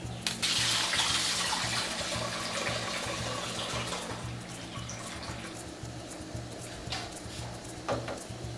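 Tapioca starch diluted in cold water for an Amazonian dish: loud running and splashing water at first, easing into quieter swirling and sloshing with a few brief clinks, with no talk.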